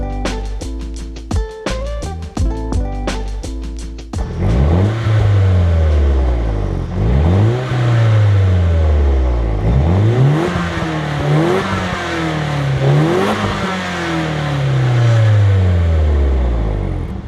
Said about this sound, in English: I actually don't mind the stock exhaust. I think it sounds pretty deep and throaty for factory.